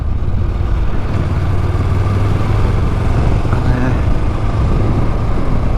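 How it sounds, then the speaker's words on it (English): A Honda engine ticks over at a steady idle close by, a continuous low rumbling drone with a faint windy hiss, running on evenly and alone. "letting it tick over regularly, just to keep the fluids going and all around the engine"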